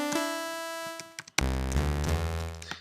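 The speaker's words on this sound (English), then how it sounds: "we've got a saw wave, which sounds like this." A bright, buzzy analog synthesizer saw wave tone rich in overtones sustains, then a lower, fuller buzzing note takes over, with faint clicks between.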